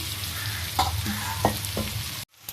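Crushed garlic hits frying prawns in a clay pot: a loud, steady sizzle with a few stirring scrapes, close up, cutting off abruptly near the end, with no talk.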